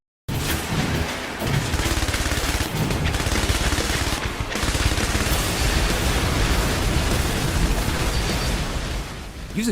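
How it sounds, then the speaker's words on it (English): Turret-mounted machine gun fire in a PSVR shooter game, a loud, dense, continuous barrage of rapid automatic shots and blasts that fills the whole stretch with almost no pause. "Use a devastatingly powerful turret-mounted machine gun and rocket launcher combo to mow down enemies in 360 degrees across 8 stages"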